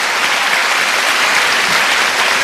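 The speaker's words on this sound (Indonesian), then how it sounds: "Tepuk tangan dong Pak Sultan" Loud, close applause for Pak Sultan from a studio audience at a televised talk show in Jogja, a thick continuous burst of clapping throughout.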